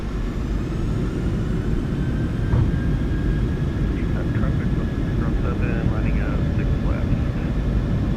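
Twin jet engines of a PMDG 737-800 spooled to takeoff power in the MSFS2024 simulator on a bumpy runway at Anchorage, a loud, steady broadband roar with a faint high whine, continuous throughout.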